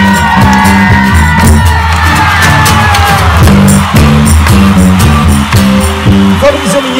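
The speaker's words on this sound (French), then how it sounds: "On peut les applaudir." A lively crowd at a garden festival in Ghlin shouts, cheers and applauds over loud live music, with whoops rising above the band; talk is mixed in.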